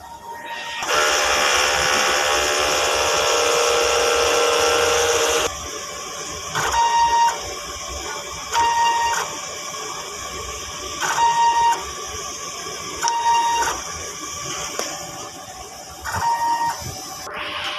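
DTF printer running a head clean cycle: a loud continuous mechanical whir for several seconds, then a series of shorter bursts of motor noise with tonal whines, repeating at irregular intervals, no voices.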